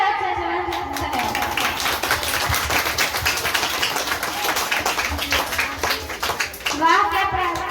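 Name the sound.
applause for a child's Republic Day speech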